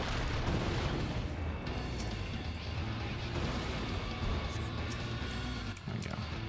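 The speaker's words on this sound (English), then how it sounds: "once those middle ones explode" Repeated explosions during a Final Fantasy XIV boss fight against Titan in The Shadow of Mhach, a dense continuous rumble of booms and crashes, loud and sustained throughout.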